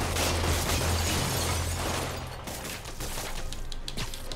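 Gunfire aimed at Spider-Man in a video game, a dense rattling volley of shots and pops with a low rumble, loud and continuous, no talking over it.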